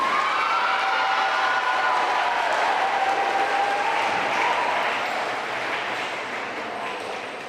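Applause from an audience at a middle school 6th and 7th grade awards ceremony, a broad sustained clapping wash that slowly fades out toward the end, with faint crowd murmur underneath.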